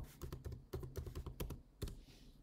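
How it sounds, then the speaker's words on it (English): Quick run of keystrokes on a computer keyboard as a terminal command is entered, about a dozen close clicks in an uneven rhythm with a short pause near the end, no talking. "We'll type AWS configure."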